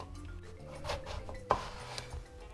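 A knife slices the end off an eggplant on a kitchen board: one short, crisp cut stands out near the middle of an otherwise quiet, faintly rustling stretch.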